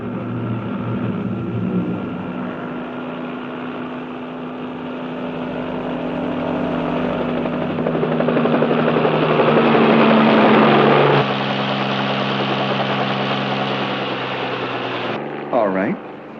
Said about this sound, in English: They've even got a helicopter circling over the roof.